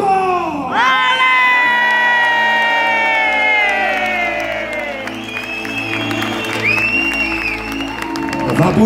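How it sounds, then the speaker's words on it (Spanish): A concert crowd at a show in Granada roars with sustained cheering, whoops and shouting, a loud wall of voices holding steady throughout with a few high shrieks rising above it. "voy a pedir la ovación más emotiva de la noche"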